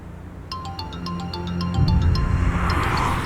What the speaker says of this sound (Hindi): सर फोन की आवाज यहीं से आ रही है।